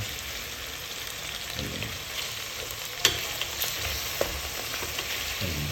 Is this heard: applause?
no